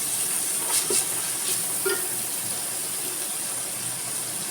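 Sliced onions with crushed ginger, garlic and curry leaves sauté in a pan with a soft, steady hiss of frying and a few clinks of a spoon stirring, with no one speaking.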